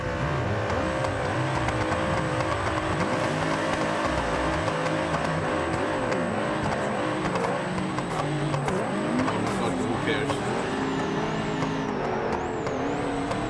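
A loud car drifting through streets in the BeamNG driving game, engine roaring and droning continuously with shifting revs and tire squeal, dense and constant throughout with no pause.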